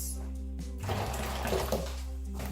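Boiling water is poured over dry egusi seeds in a bowl: a soft, close splashing gush runs for about a second and a half over a steady low hum, with no voices.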